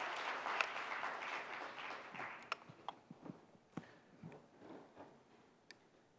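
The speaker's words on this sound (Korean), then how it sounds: "Please welcome him with a big round of applause" Audience applause welcoming a speaker at a design forum, starting as a moderate clatter of many hands and thinning into scattered individual claps that fade toward the end.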